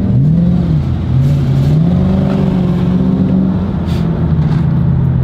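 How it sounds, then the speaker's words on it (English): A car close by at a slide meet accelerates hard, its engine note rising and falling through several revs and shifts, loud and steady for about five seconds with no talk. "What is this car doing"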